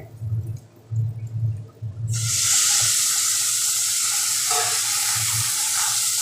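Spices and seeds hit a hot pan for a dal, breaking into a loud, steady sizzle that carries on to the end after a few quieter stirring and knocking sounds.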